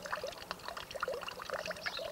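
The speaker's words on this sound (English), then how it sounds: "it's much louder and more musical than an ordinary drip" Water drips and trickles from a singing fountain sculpture, producing a busy patter of small splashes with musical, bell-like drop tones, moderately close and steady.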